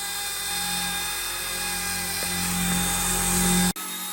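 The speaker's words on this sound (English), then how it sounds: "it's just a basic hovering helicopter" A Rage RC Hero-Copter mini radio-controlled helicopter hovers indoors with a steady, high-pitched rotor whine and motor buzz, close and continuous, cutting out abruptly just before the end.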